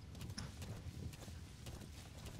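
A horse galloping over jagged terrain with trees and rocks in Metal Gear Solid 5, hooves thudding in a quick uneven rhythm, faint and low under a dull background rumble.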